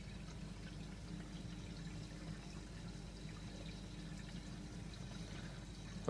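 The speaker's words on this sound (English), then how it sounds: "there's still a load of water shooting out of here" Water rushes steadily from the return pump outlet of a 200-gallon reef tank, a constant low, hissing, splashing flow that stays even and faint throughout with no pauses.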